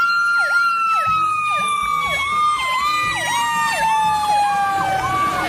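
An electronic siren warbles in fast repeating whoops over a steady tone, loud and close, like a toy fire truck's siren playing continuously.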